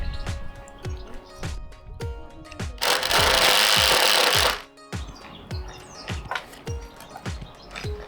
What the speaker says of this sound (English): You drill. You screw it in. Go. Pull the trigger.